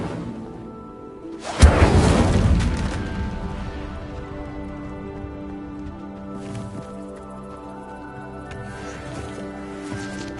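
A fire spell cast in the game Hogwarts Legacy lands as a sudden loud whoosh and burst, then a roaring crackle that slowly fades under a steady musical score.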